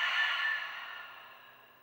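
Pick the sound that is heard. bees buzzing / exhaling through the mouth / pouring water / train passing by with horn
exhaling through the mouth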